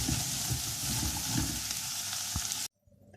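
Okra (bhindi) fries in oil, producing a dense close sizzle with light stirring clatter that stops abruptly near the end, leaving near silence; nobody talks.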